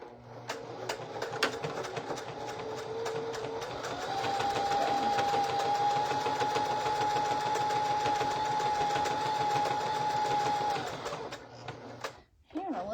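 A domestic sewing machine stitches a quilt star appliqué onto a shirt, running in a steady, continuous whir with a rising pitch partway through, fairly close and loud, stopping near the end.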